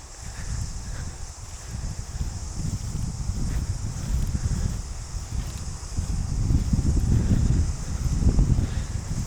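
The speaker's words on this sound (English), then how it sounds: "But still very windy" Strong wind buffets the microphone on a beach in New Plymouth, New Zealand, in a steady, rumbling roar that rises and falls, with no voices.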